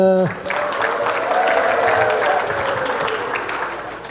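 An audience at a youth organisation's inauguration ceremony bursts into sustained clapping after a brief voice, the dense applause swelling, holding steady, then slowly thinning out.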